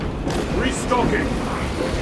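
A mechanical reload clatter plays in the Warhammer 40K Space Marine video game as ammunition is restocked, a short metallic clicking and creaking burst heard up close alongside faint game sounds.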